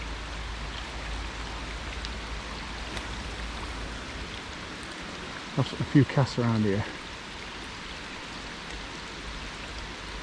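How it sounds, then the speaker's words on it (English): Steady heavy rain hisses throughout, with someone speaking briefly midway over the downpour. "Loads of rain hammering down."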